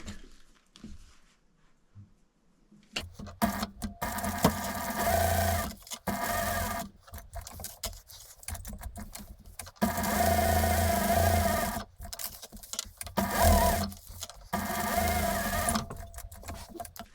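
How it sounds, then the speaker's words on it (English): Sewing machine basting close to the edge and top stitching a velour crossbody bag, running in several steady bursts separated by short pauses, close and moderately loud with no talk. "we're just going to sew very close to the edge just to baste it in position"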